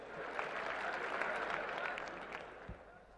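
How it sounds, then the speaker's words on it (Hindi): Applause from a crowd at a political rally welcoming Nitin Gadkari to the stage, a continuous wash of clapping heard from a distance, fairly faint and steady. "जोरदार तालियों से उनका स्वागत करें।"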